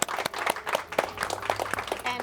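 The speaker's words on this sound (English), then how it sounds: "Round of applause." A small audience at a community mental health talk gives a round of applause, individual claps distinct and uneven, with a voice speaking over the end.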